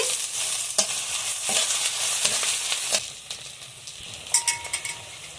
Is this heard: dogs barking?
no